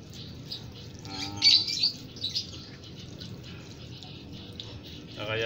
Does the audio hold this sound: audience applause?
no